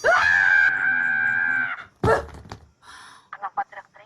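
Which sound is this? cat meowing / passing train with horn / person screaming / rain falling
person screaming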